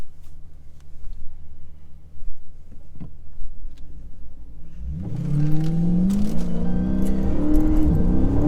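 A Mopar car idles as a low rumble for about five seconds, then its engine roars up loud and close, the pitch climbing steadily as it accelerates and drives off.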